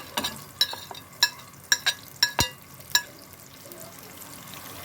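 Chopped onion frying in a hot pot gives sparse, sharp crackles and pops up close, each dying away quickly, with no talking.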